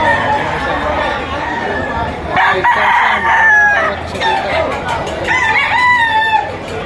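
Rooster crowing among caged fowl at a busy poultry auction market in Lipa, with several crows rising over steady crowd chatter and someone talking nearby.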